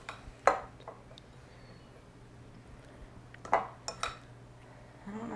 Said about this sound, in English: How long should I stir this for, Maddy?